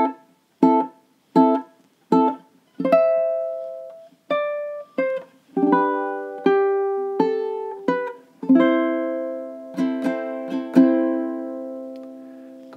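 Ukulele playing four bars of the B section of a song: short choppy strums first, then single picked notes and fuller ringing chords, steady rhythm, close and clear with no voices.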